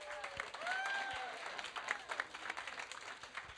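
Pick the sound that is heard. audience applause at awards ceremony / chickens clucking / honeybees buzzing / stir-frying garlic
audience applause at awards ceremony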